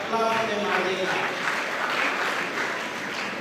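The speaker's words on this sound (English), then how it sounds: "Let us have a clap for them again." An audience claps for named people at a gathering, sustained applause from many hands with a brief sung or spoken tone at the start, fading slightly toward the end.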